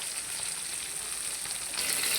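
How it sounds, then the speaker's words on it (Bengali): Fish frying in a pan, a steady, close hiss of oil sizzling throughout with faint stirring textures, growing slightly louder near the end, no voices. "এই দেখুন মাছ ভাজাটা এক পাশে হয়ে গেছে ভালোভাবে"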